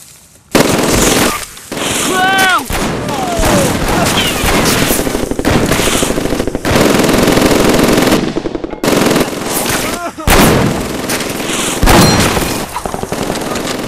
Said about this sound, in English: Germans really loved many things. Among them was machine gun ambushes.